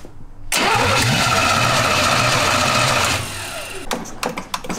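Small-block Chevy V8 in an abandoned 1971 Jaguar cranks over with the starter for about three seconds, a loud fast rhythmic whirring that stops abruptly, followed by scattered clicks and clunks close by.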